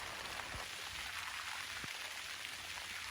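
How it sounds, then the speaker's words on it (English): Light rain falls steadily over a garden, a soft continuous patter with a few closer drips standing out, no voices present. "it is beginning to rain a little harder"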